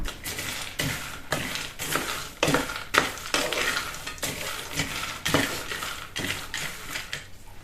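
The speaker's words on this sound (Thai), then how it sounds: "การคั่วถั่วสิ่งที่ต้องระมัดระวังนิดหนึ่งนะคะ" Peanuts dry-roasted in a pan, stirred in a steady rhythm of scraping, rattling strokes about every half second, close and fairly loud with a gritty hiss between strokes.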